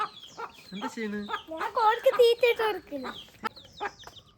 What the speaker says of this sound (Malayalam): ഇതൊക്കെ നമ്മുടെ കോഴികളാ